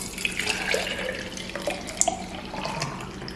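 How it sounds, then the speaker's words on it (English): Fresh juice pours from a juicer in a steady splashing stream, with a few gurgles and drips near the end. "So let's go ahead and pour this out."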